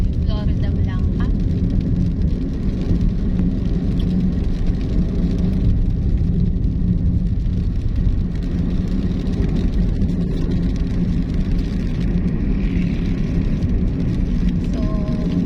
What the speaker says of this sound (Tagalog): malakas po yung ulan ngayon dito sa Florida Blanca.